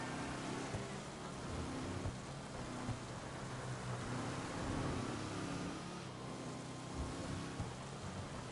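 Steady rain falls in GTA V Online, a soft, constant hiss of downpour with faint low rumbles underneath, heard alone and fairly quietly throughout.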